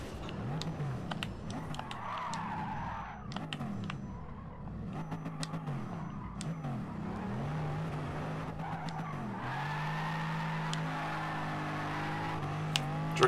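Race car tyres skid and squeal around Monza in a racing video game, long wavering screeches over a droning engine that revs and shifts pitch, steady and fairly close throughout.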